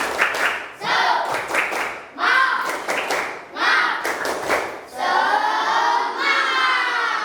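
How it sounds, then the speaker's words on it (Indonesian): A classroom of fourth-grade pupils performs the tepuk semangat clapping chant, bursts of rhythmic group claps and taps alternating with children's chanting voices, loud and close, ending in a sustained shout. "Tepuk semangat."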